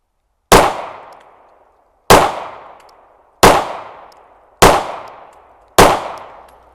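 Five sharp handgun shots are fired at a target, about 1.3 seconds apart. Each loud, close crack rings and dies away before the next.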